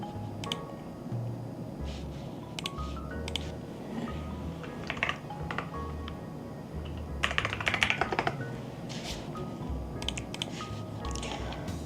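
Typing on an Epomaker TH40 pocket keyboard, a steady stream of quick soft key clacks at close range, uneven in rhythm with occasional brighter bursts of faster keystrokes, no voices.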